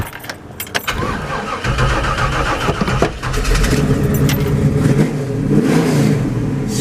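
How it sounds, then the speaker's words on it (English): A 1964 Chevrolet Malibu SS with a 700R transmission cranks over and fires up, a brief starter whir and key jangle giving way to a loud, close, rumbling V8 idle with a few small revs. "I'll go ahead and fire it up for you."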